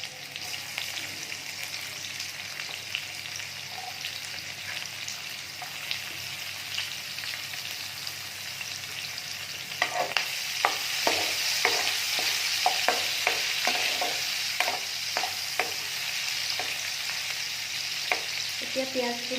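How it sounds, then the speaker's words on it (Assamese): Onions sizzle in hot oil in a kadai, a soft steady frying hiss that turns into repeated scraping stirs partway through, close and fairly quiet with no voices. "এতিয়া পিয়াজখিনি অলপমান ৰঙচুৱা হোৱাকৈ ভাজি ল'ম"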